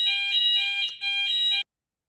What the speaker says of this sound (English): Fire alarm going on and off.